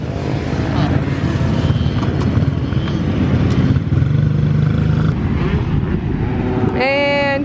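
Gas and electric dirt bikes ridden outdoors, with a steady loud engine drone and shifting revs throughout, wind buffeting, and a brief rising whine near the end.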